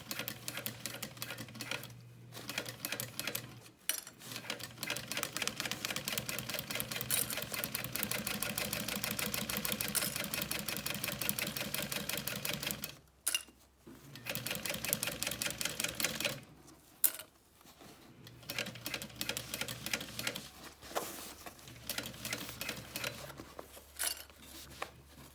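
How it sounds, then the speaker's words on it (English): Sewing machine stitching over the grab handle topper of a baby sling, running in long steady rapid bursts with a few brief pauses, close and loud with no talking. "Sewing over the topper here, where this is the grab handle."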